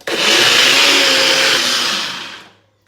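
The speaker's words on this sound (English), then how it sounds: "The blender I use is a NutriBullet." A NutriBullet blender whirs loudly and steadily as it blends a supplement shake, a dense motor roar holding for about two seconds before winding down to silence.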